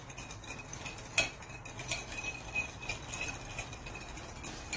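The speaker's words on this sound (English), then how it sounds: "we're going to beat in the egg" Eggs are beaten with a utensil in a bowl while making Nigerian meat pie, giving quiet, irregular clinks and scrapes with one sharper knock near the start.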